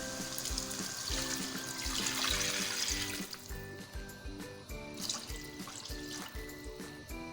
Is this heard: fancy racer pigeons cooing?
no